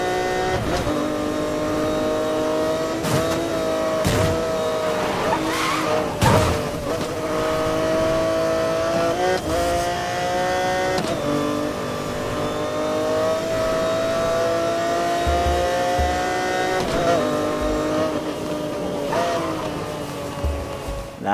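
Ariel Atom 500 V8 in a racing video game, its engine holding a loud, steady high-pitched rev with brief dips at gear shifts, alone and close throughout.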